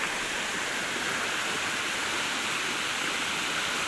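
A village waterfall in the Konkan gushes in a powerful, unbroken roar of falling water, close and steady throughout with no voices.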